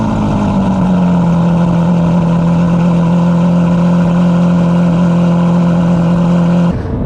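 A Lamborghini Murcielago V12 with a race exhaust holds a loud, steady high-pitched drone up close, the revs settling after the first second and cutting off just before the end.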